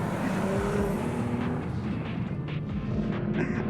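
A Porsche Macan GTS on the move gives off sharp exhaust pops and crackles over a steady, loud engine and road drone, with several bursts close together.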